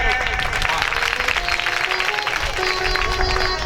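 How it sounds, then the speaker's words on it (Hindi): Sustained loud applause from an audience at a Hindu religious katha, a dense wash of clapping throughout with voices and faint tonal sounds mixed in. "जोरदार तालियां बजाया करो।"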